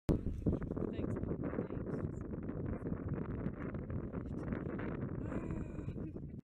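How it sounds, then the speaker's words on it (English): Wind blowing on a college campus on a windy day, a steady rough rumble of gusts buffeting the microphone throughout, close and continuous. "It's too much wind today for a dress."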